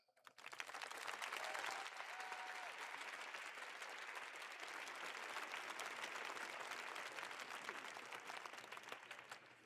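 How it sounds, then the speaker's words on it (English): A large audience at an outdoor summer band camp breaks into sustained applause, a dense wash of clapping that swells quickly, holds steady for several seconds and tapers slightly at the end. "Let's clap for that."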